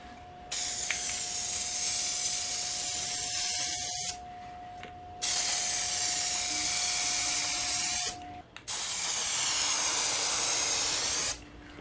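Rust-Oleum Custom Automotive Clear comes out of an aerosol can onto 3D printed parts in three loud, close hissing bursts of a few seconds each, separated by short pauses, with no voices.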